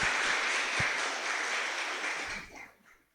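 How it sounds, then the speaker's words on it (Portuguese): A church congregation claps in a steady wash of applause that fades away near the end. "Aplauda o Senhor Jesus pela participação dele, queridos."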